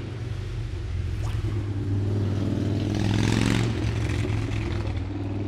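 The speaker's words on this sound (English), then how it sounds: "Wow, that motorcycle is loud." A loud motorcycle engine passes by outdoors, a steady low rumble that swells to a peak around the middle and then eases off, with no talking.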